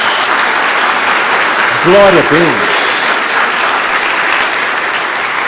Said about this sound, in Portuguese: Dê uma salva de palmas a Jesus.